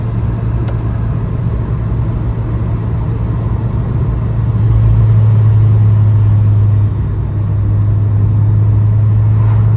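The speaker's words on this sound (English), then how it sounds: "Just the sound of the car." A supercharged Honda Civic Si 2.0 cruising on the road, its engine a steady droning hum with a low rumble that rises in pitch and loudness midway, then eases back, heard from inside with no talk.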